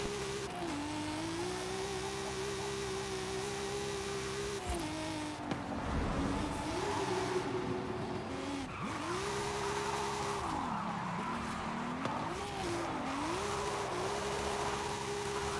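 Nissan 200SX S14 drifting in Forza Horizon 5, its engine droning steadily with pitch swells and dips as revs rise and fall, tire squeal running through the slide, loud and continuous with no talk.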